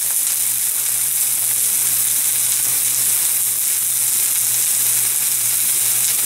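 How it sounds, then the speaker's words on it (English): Chopped meat fries in a pan for a meat pizza, giving a steady, dense sizzle that holds at an even loudness throughout, close by and with no talking. "fry up some chopped meat."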